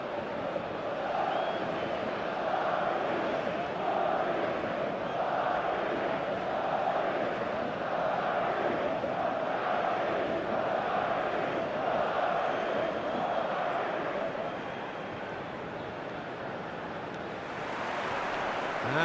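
Stadium crowd in the football video game eFootball 2026 on match day, a dense sustained roar of many voices that holds steady throughout and dips slightly near the end before swelling again.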